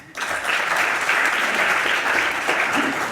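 A conference audience breaks into sudden, dense applause after a talk on Mycobacterium ulcerans treatment, a steady sustained clapping that holds evenly loud from start to finish.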